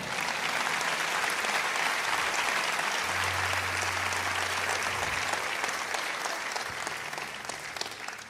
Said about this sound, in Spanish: Alguien déle el aplauso al Señor.